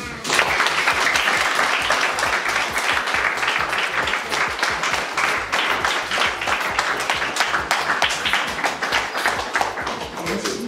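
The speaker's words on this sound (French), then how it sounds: "S'il vous plaît, on applaudit pour Dieu." An audience applauds at a charity donation gathering at an orphanage in Abengourou, loud, dense and sustained clapping that fills the whole stretch without a break.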